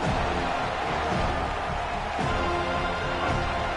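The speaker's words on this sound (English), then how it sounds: "Decibels rising as the crowd gets behind this defense on 3rd down." A stadium crowd roars and cheers in the College Football 27 video game on PS5, Florida State hosting New Mexico State on a third-down defensive stand, a dense, sustained wall of crowd noise that swells slightly without pause.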